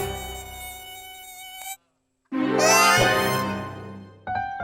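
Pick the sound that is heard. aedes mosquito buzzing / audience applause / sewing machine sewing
aedes mosquito buzzing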